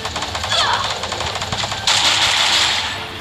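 Rapid automatic gunfire in the mobile shooter Garena Free Fire, a loud dense rattle of shots that continues throughout and becomes harsher partway through.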